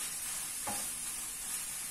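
Minced meat fries in a pan with a steady, close sizzle, broken once by a short scrape of stirring; no one speaks.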